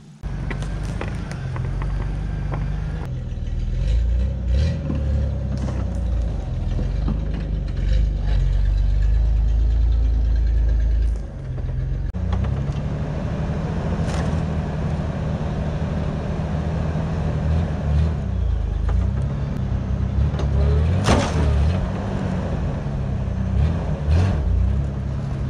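A truck engine pulls steadily under load while hauling a log out with a winch cable run through snatch blocks, a loud continuous low rumble with shifting strain and a brief dip midway.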